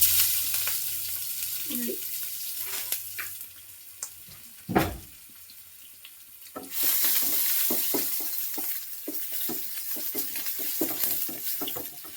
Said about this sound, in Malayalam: കടുകിട്ട് പൊട്ടിക്കാം